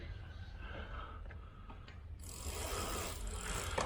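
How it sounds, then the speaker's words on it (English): Pedal wrench tightening pedals onto a Tower e-bike: quiet close ratcheting clicks and metallic turning, followed by a brighter rasping burst of mechanical noise, no speech. "I'm going to finish them both off with the handy dandy pedal wrench"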